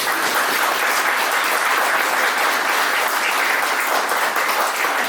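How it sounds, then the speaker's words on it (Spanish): A book-launch audience breaks into strong, sustained applause, a dense, even roar of many clapping hands that stays loud and close from start to finish. "con su director Francisco Peralta, a quien le pido un aplauso."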